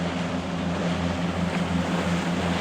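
A boat passes offshore at Boynton Beach, Florida: a steady low engine drone hums continuously beneath broad wind and surf noise, fairly loud, with no talk.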